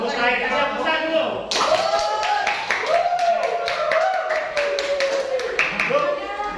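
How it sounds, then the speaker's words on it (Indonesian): Applause in a classroom, with a loud burst of clapping from many hands that starts suddenly and keeps going, while voices talk over it. "tepuk tangan kasih yang besar dulu"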